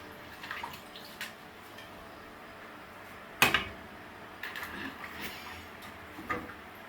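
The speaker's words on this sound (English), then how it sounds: "I'm going to wash my yam now" A yam is washed in water in a kitchen, with soft splashing and sloshing plus one sharper knock against a pot or bowl midway, moderate and close, over a steady background hiss.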